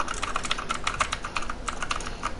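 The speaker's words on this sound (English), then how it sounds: "I get a mechanical keyboard." Typing on a new mechanical computer keyboard, a steady run of crisp, clacky keystrokes at close range with no voices.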